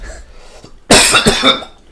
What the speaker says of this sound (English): I'm coughing the mic.